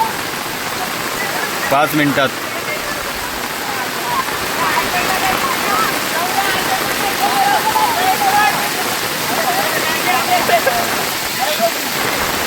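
Heavy rain in a Konkan village, a dense steady roar of downpour with splashing water throughout, loud and close, with a brief voice speaking over it.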